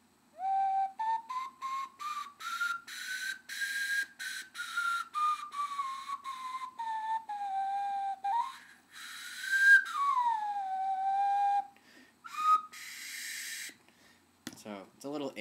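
An 8-hole Peruvian-style ocarina plays a single breathy, airy tone, sliding up and down in pitch with short gaps between phrases, close and moderately loud.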